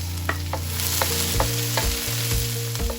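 Minced garlic and the white parts of spring onions sauté in hot oil in a pan, giving a steady close sizzle broken by soft scraping stirs, with no talk.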